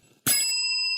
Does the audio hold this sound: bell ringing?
yes